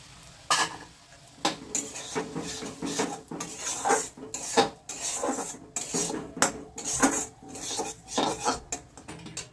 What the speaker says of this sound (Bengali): এই সুজিটা আমি এটাতে একটু হালকা করে ভেজে নিচ্ছি